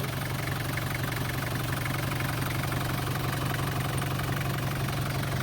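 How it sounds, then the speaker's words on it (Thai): A Nissan Big M TD25 diesel truck engine idles with a steady, low, even rumble throughout, with a constant hum and slight vibration and no revving or voices. "เสียงเครื่องนิ่มๆ แบบนี้เลย"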